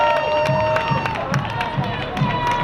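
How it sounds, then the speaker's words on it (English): A homecoming parade crowd claps and cheers for the Lake Orion Fire Department, a steady wash of applause with scattered shouts and an announcer talking over it. "Again, a warm round of applause for the Lake Orion Fire Department."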